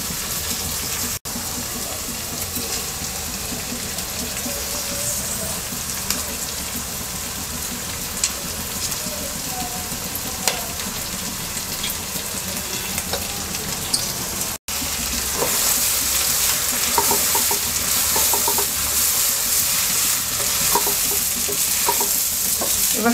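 Rice stir-fried with vegetables in a pan gives a continuous close sizzle under frequent scraping and stirring strokes, growing louder and busier in the second half after a brief dropout.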